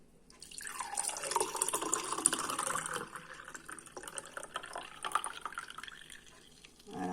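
Freshly pressed fennel and lemon juice pours into a container that is collecting it, making a close, steady liquid stream whose pitch rises as the vessel fills, then tapers off near the end.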